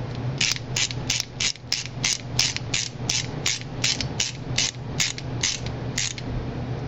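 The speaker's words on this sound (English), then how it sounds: "And then we're just going to screw it in." Rapid ratcheting clicks from a screwdriver driving a screw into a Traxxas Rustler RC car's steering block and caster block, about fifteen evenly spaced clicks, close and steady, over a low background hum with no talking.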